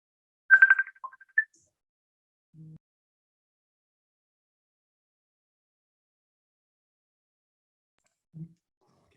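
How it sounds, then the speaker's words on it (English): Incoming phone call during an online presentation: a short electronic ring or chime burst near the start, followed by two faint low blips seconds apart in otherwise near silence. "just had a phone call"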